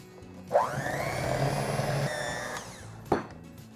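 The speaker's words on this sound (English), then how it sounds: "Just turn on the mixer." Electric hand mixer running steadily for about three seconds as it beats flour into a peanut butter mixture, a loud continuous motor whine with a sharp start and a brief burst again near the end.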